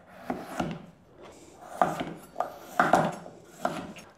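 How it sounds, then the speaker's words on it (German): Celery cut into pieces with a knife on a wooden board, giving about six crisp, close chopping knocks at an uneven pace with quiet pauses in between. "Den Sellerie schneide ich mir dann einfach in Stücke."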